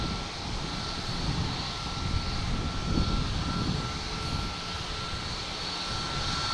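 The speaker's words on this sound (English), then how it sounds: "So this Alaskan Airlines coming in from Seattle." An Alaska Airlines airliner arriving from Seattle roars steadily on its landing approach at Boston Logan, a loud, sustained jet rumble with a slight swell in the middle and no talk.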